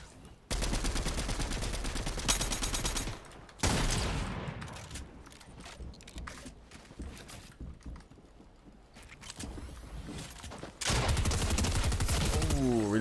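Bursts of rapid automatic gunfire in Fortnite crackle loudly in several dense stretches separated by brief quieter gaps, with mixed game sounds and some talk in between.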